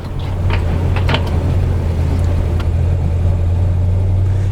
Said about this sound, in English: Inside you've got a nice healthy exhaust note, but it's not too loud.